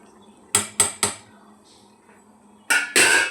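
A pot of rice for Kolkata-style biryani is lifted off the stove, with three sharp metallic clanks of pot and utensils close by, a pause, then two louder scraping clatters.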